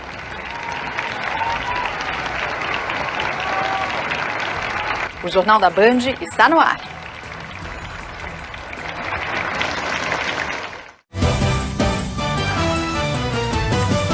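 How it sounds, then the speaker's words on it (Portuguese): A crowd applauds in a minute-long tribute to Jô Soares, a steady wash of clapping and cheering under a television news broadcast, with a man's announcement and musical theme cutting in toward the end. "E um minuto de aplausos para Jô Soares."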